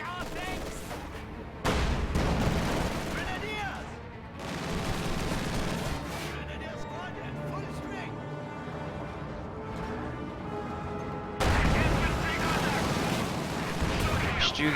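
Artillery, mortar and field gun fire crack and boom through a video game battle, with loud blasts near the start and again near the end over a steady din of gunfire, and a voice talking underneath.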